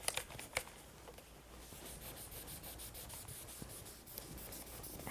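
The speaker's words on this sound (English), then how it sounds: "And give them a bit of a scrub." Irons being scrubbed clean by hand, giving a quiet, steady rubbing and brushing texture with a few sharper scuffs near the start, close to the microphone and with no talking.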